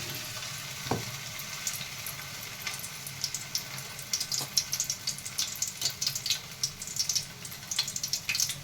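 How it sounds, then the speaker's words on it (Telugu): Chicken kofta balls sizzling in hot oil, a steady close crackle with brief pops and a few clinks as the balls are dropped in and stirred. "ఇలా బాల్స్ చేసుకొని మనం ఫ్రై చేసుకుందాం. మనకి ఆయిల్ కూడా వేడెక్కింది కదా"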